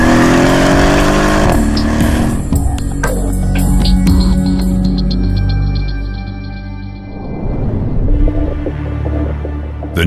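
A Mercedes-AMG 5.5-litre V8 biturbo car engine runs and revs loudly up close, its pitch climbing and shifting as it accelerates, then settling into a deep steady drone.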